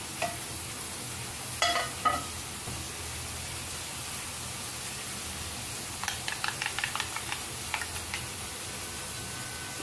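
Small spoon-sized omelettes fry in a pan with a continuous soft sizzle, with a few clicks early on and a quick run of light spoon taps later.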